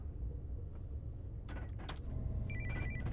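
A telephone rings faintly in a train simulator scenario, a brief electronic trill near the end above low rumbling engine noise.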